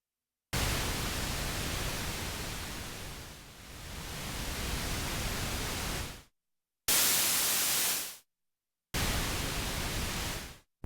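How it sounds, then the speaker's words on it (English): Hissing pink and white noise from a Behringer Model D analog synthesizer, first a long steady wash that dips briefly and swells back, then two shorter bursts, one bright and one duller, separated by silences. "the noise comes in both pink and white flavours"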